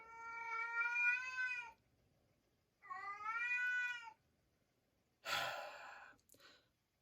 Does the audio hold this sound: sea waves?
no